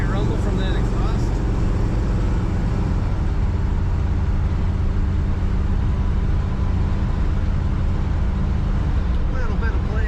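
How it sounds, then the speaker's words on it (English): A 1957 Buick Century convertible gives a steady, loud low exhaust rumble while driving, with the engine drone continuous throughout and a voice talking over it. "Great rumble from that exhaust."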